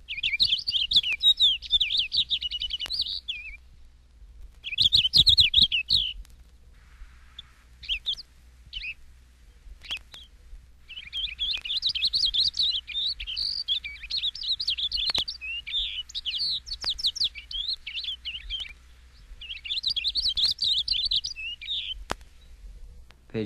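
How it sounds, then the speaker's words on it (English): A Purple Finch sings in bursts of rapid, warbling, high-pitched notes, several phrases separated by pauses, clear and fairly close over a quiet background. "223, Purple Finch."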